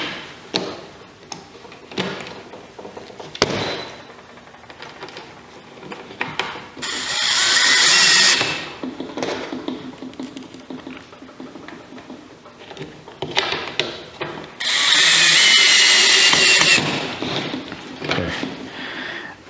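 A power drill with a screwdriver tip runs screws into wood in two loud, sustained whirring bursts of a couple of seconds each, separated by handling knocks, taps and workshop clatter.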